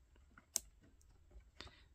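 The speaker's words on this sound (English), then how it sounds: "Nice audible clicks." Switch clicks on a CVLIFE 800 lumen rechargeable green laser light combo: a couple of sharp, quiet clicks about a second apart against faint background noise.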